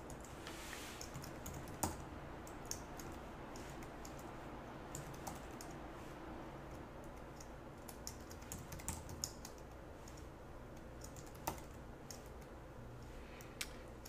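Quiet, irregular clicking of keys on a computer keyboard, with short bursts of typing and occasional sharper taps.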